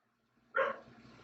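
An Australian cattle dog lets out a single sharp bark, close and fairly loud, indoors, with a brief fading tail and no other sound.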